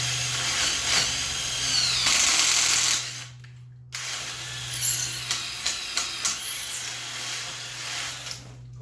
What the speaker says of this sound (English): You run your concrete drill bit back in there.